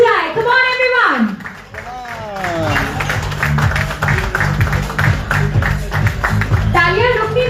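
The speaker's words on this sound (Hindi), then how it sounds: "जोरदार तालियां हो जाए, कम ऑन एवरीवन।" An audience claps for an actress arriving at a live Bhojpuri film event: steady applause in the middle stretch, with amplified speech and voices over it at the start and end.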